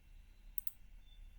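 A computer mouse gives a couple of quick, faint clicks in quick succession against a quiet background while a Wix page is being edited.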